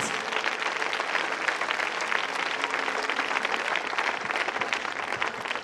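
A church congregation bursts into sustained applause, dense steady clapping from many hands filling the room for several seconds.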